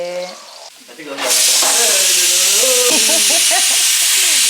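Garlic and onion sautéing in a pan, a loud, steady hiss and sizzle that bursts in after a second and holds, with soft stirring clinks and a voice speaking over it.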